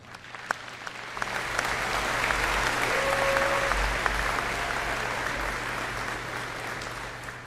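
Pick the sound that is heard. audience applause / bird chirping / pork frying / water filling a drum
audience applause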